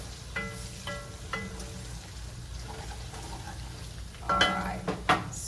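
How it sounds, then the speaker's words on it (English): Pork belly crisping in a pan is stirred, giving scraping, clattering utensil strokes over a low sizzle, with louder scrapes toward the end. "Just gonna stir up my pork belly first"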